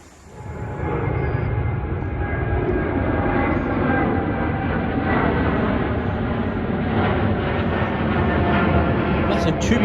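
A train running from Birmingham New Street to London Euston rumbles past close by in a steady, loud roar that swells within the first second and holds for the rest of the stretch.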